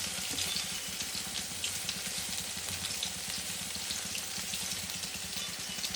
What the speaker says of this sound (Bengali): পেঁয়াজটা একটু ভাজা ভাজা হয়ে গেলে জল দিয়ে আবার ঢেকে দেবো